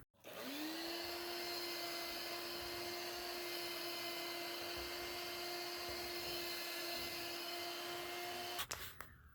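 Steady, close vacuum suction whine with a constant tone, cleaning dirt off the gas tank of a 1966 Suburban, running alone for several seconds before cutting off with a few clicks at the end.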